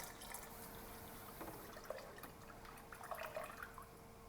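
Water is poured from a gallon jug into a cooking pot for boiling shrimp, a faint, low trickling and splashing that runs steadily with a few small drips.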